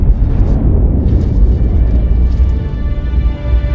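A massive explosion in the Injustice: Gods Among Us video game gives a continuous heavy, rumbling roar that stays loud and dense throughout.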